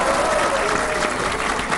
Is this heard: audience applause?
yes